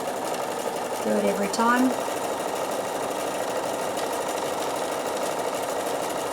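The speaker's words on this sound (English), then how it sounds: "we're going to sew the cord on the edge to finish it off" A Bernina sewing machine runs briefly, stitching cord onto the edge of a fabric piece, a short whirring burst under a woman's close, ongoing talk.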